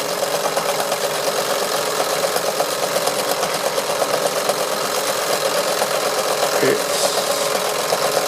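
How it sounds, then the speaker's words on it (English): A Wilesco D141 toy steam engine powers a small drill boring into wood, with a steady close rattling mechanical whir, a brief voice near the end. "I'll drill some wood down here."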